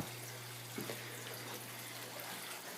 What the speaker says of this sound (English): The water will reach the top of the standpipe, fill the bell, and then the water will be drawn off